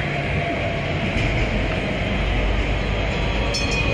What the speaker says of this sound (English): First, to get to the bus, I have to take the train. Here it comes now.